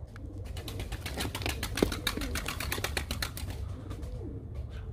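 A young pigeon about two to two and a half months old, held during hand training, gives soft low coos and a few wing rustles close by, with scattered clicks and handling noise.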